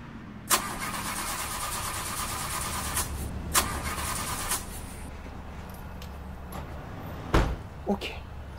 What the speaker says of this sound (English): Mom, please go and start the car.